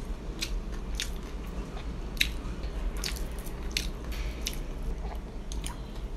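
Someone bites into crispy fried tofu tonkatsu, crunchy outside and juicy inside, with repeated close crisp crunches and chewing at an uneven pace over low background hum.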